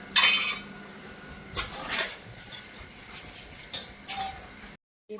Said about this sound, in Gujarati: ભાભી વાસણ કાઢે.